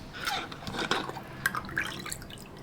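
Cold water is poured into aloe vera juice, giving a quiet, splashy trickle with a few small drips and bubbly splashes close by.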